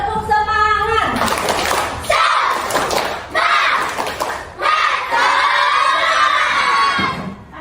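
A classroom of schoolchildren claps in a rhythmic spirit pattern and shouts a cheer in unison, loud and close, in bursts separated by short pauses.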